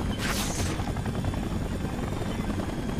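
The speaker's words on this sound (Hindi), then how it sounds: "यार इसको लेकर के मुझे हेलीकॉप्टर का पीछा करना होगा है ना?" Helicopter in the Spider-Man 3 video game, a steady loud rotor drone filling the whole three seconds with a brief rushing swell near the start, no talk over it.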